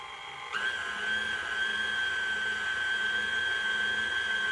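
A stand mixer on low speed works salted chocolate cookie dough, starting abruptly and settling into a steady, even whine that runs on alone at moderate volume.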